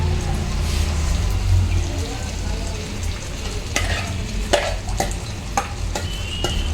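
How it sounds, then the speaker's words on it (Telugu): Eggplants sizzle and fry in a pan with onion paste gravy as a spoon stirs and scrapes, the steady frying hiss broken by sharp clinks, with a voice talking at moments. "ఇప్పుడు వంకాయలు ఫ్రై అయిపోయినాయి కదా ఈ గ్రేవీ ఆనియన్ పేస్ట్ ఇది అది వేసుకున్నాం"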